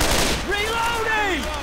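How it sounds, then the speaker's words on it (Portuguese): Rapid gunfire bursts in the video game Left 4 Dead 2, fired inside a tunnel, crackle loudly through the short stretch, with a sweeping tonal game effect over them. "Aí a gente tem que atirar neles aqui dentro do túnel."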